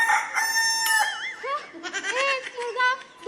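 Rooster crowing, close and clear, with several rising and falling calls in a row alongside clucking fowl, set against a quiet background.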